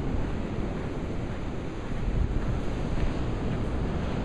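Ocean waves at Tayrona beach on Colombia's Caribbean coast, where the surf is dangerous: a steady, loud wash of breaking water with heavy wind rumble across the microphone, no voices.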